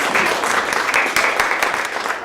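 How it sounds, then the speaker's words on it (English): Audience at a live talk-series event breaks into a round of applause, a steady dense wash of many hands clapping close and loud for the full stretch, with no talk over it. "so let's give her a round of applause."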